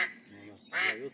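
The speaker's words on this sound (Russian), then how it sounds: "Вот так она у нас крякает." A duck quacks twice, close by: a raspy call, a short pause, then a louder, longer quack.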